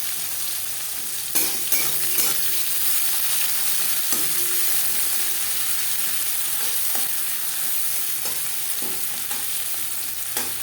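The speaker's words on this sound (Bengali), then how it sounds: "দিয়ে দেবো পেঁয়াজ কুচি" Chopped onion dropped into hot mustard oil with whole cumin, frying with a steady loud sizzle and occasional stirring scrapes of a spatula in the pan.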